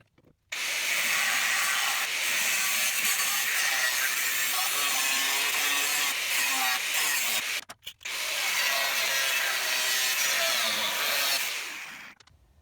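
Metal being cut for a RZR roll bar fitted to a Corvette kart build, a loud, steady grinding-cutting hiss running almost nonstop for about eleven seconds with one brief break partway through, close and alone.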